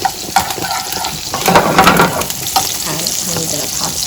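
Steady sizzling of a garlic clove frying in hot oil, a continuous crackling hiss that swells briefly in the middle, close and fairly loud.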